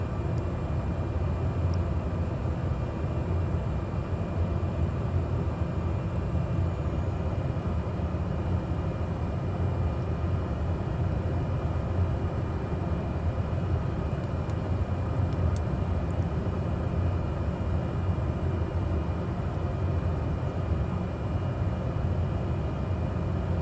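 An airplane engine in Microsoft Flight Simulator drones steadily during takeoff, a constant, even hum that stays moderately loud throughout with no voices.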